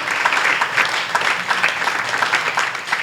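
A congregation at a Sunday church service claps to welcome Pastor Sam, a steady, dense burst of applause filling the room for about three seconds with no talk over it.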